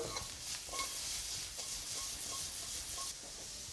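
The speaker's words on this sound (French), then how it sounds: "je continue la cuisson jusqu'à augmenter la température de ma poêle et donc caraméliser mon sucre" Vegetables glaze in a hot pan as sugar caramelizes, giving a soft continuous sizzle and hiss with faint stirring scrapes, close and fairly quiet, with no voices.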